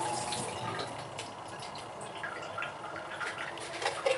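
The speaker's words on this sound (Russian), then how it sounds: "Сливаем воду." Water drains from an opened jar of olives in a steady, moderately loud trickle with light splashes, and no one speaks.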